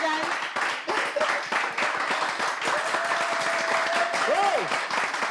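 An audience at a French-language show applauds loudly and steadily, with shouts and a rising whistle-like voice cutting through the dense clapping.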